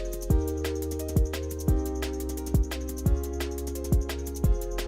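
A liquid drum and bass beat loops with a deep kick and a snare carrying a light reverb tail, the hits landing in a steady repeating pattern, moderately quiet and without talk.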